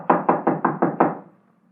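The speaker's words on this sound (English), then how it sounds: "Well, let's try knocking." A fist raps six times in an even rhythm on a locked door, loud, close and hollow, before the knocking stops.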